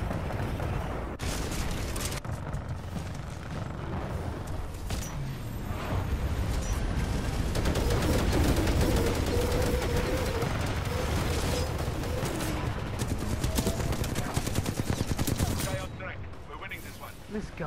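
Rapid gunfire in Titanfall 2 multiplayer: sustained bursts of shots rattle through most of the stretch, mixed with explosions and game noise, fairly loud and continuous before easing off near the end.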